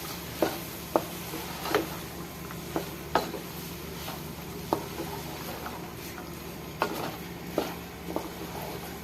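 A spoon stirs dal with bitter gourd (karela) in a pot, giving close, irregular scrapes and clinks against the metal over a soft steady simmering hiss, about a dozen distinct strokes spread through the stretch with no talking.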